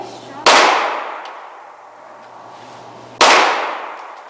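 Two sharp, loud handgun shots about three seconds apart, each with a long ringing decay in an outdoor range setting; no talk between them.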